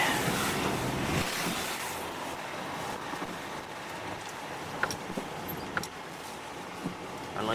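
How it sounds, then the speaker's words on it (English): A vehicle drives through a small river crossing in Iceland. Steady water rush and splashing carry over wind noise, with a few sharp knocks and bumps along the way. Nobody speaks. "I like little river crossings."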